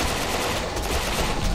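Dense, continuous rapid-fire gunfire from an alien shooter video game, loud and unbroken, with no talking.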